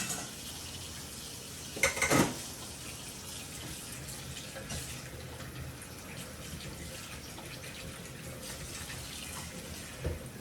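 Chopped vegetables are washed in water at a kitchen sink, running tap water flowing steadily with a brief louder splash and clatter near the start and faint sloshing afterward.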